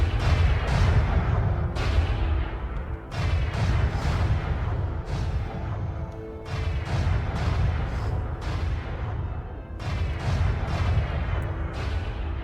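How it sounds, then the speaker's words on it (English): Triple cannons fire repeatedly in the X4 space game, a dense run of loud booming shots with brief gaps, continuing almost without pause. "I just love the sound of cannons going off in space games."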